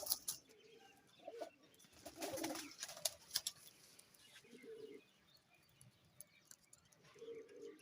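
Teddy pigeons coo in short, low, throaty bursts repeated several times across the clip, with a few brighter chirps and some wing rustling mixed in at moderate, close range.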